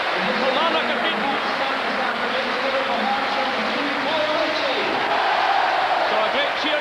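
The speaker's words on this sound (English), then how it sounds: "So a great cheer goes up as Paul Ritchie gets his second goal of the game." A football crowd roars for a goal at a Hearts versus Kilmarnock match, a dense sustained cheer over which a commentator talks.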